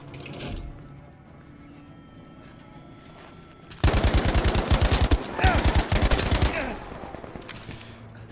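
Automatic gunfire in Battlefield V, a player firing from a mounted position: sustained loud bursts of rapid shots begin midway and run for about three seconds after a quiet stretch with faint background game sound.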